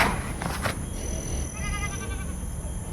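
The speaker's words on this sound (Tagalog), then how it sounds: "Yung mga kambing pa kung naririnig." Goats bleat nearby, a couple of wavering cries over steady outdoor background noise, with no one talking.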